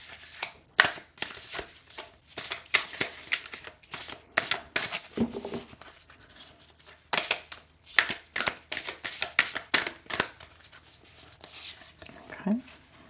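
A deck of oracle cards gets shuffled up close in quick, papery riffles and taps that come in irregular bursts, with a voice speaking intermittently nearby.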